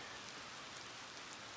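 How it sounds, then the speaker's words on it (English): Steady rain falls through an evening outdoors during a September moose and caribou hunt, a soft, even hiss of drops with no other sounds. "Beautiful rainy evening."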